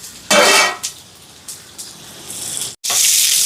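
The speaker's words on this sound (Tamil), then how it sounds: "வெங்காய இது வதங்கட்டுக்கும்." Onions, dried red chillies, green chillies and curry leaves sautéing with cumin in a pan, a loud sizzling hiss that swells at the start then settles into a steady frying rush with a few stirring scrapes and a brief break near the end.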